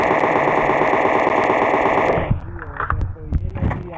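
Sustained rapid gunfire in PUBG on the Sanhok map, a loud dense burst of automatic shots lasting about two seconds, followed by scattered quieter in-game sounds and a voice talking.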